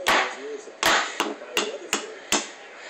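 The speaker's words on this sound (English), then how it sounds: "Use the mallet." A mallet bangs on a hard surface in six separate, sharp, loud strikes at irregular intervals, close by with little else around them.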